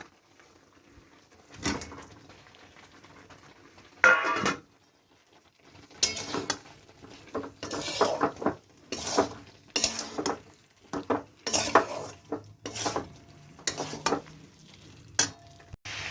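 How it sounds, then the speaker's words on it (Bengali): Cauliflower and potato being stir-fried in a pan of fried spice paste: irregular bursts of scraping, stirring and sizzling separated by quiet pauses, close and moderately loud, no voices. "এবার কপি আলু দিয়ে খানিকটা কষিয়ে নেব।"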